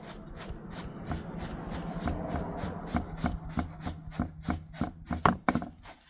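An old DTF transfer print being slowly peeled off a T-shirt, its glue backing giving a dry, crackling rasp with repeated sharp ticks that grow louder and more frequent toward the end, close up and without speech.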